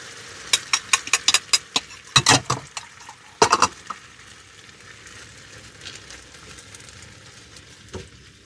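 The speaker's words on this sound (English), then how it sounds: "that chicken is now cooked. I'm going to go in with the sauce" Sauce is poured over cooked chicken in a hot pan, setting off a loud crackling sizzle with sharp spitting bursts early on that settles into a steady, quieter hiss.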